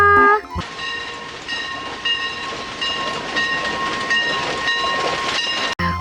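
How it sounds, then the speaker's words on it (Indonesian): Toy train, a long red plastic model, running with a steady mechanical whirr and repeated electronic chime or horn tones, fairly loud and close throughout with no talk over it. "Lihat teman-teman, di sini ada kereta."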